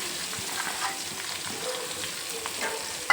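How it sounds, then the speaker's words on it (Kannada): Garlic frying in hot oil for a village-style mango pickle gives a steady, moderately loud crackling sizzle with a few brief stir sounds, no voices. "ಇದನ್ನು ಸೇರಿಸ್ಬಿಟ್ಟು ಒಂಚೂರು ಫ್ರೈ ಮಾಡ್ಕೊಳ್ಳೋಣ ಬೆಳ್ಳುಳ್ಳಿನ."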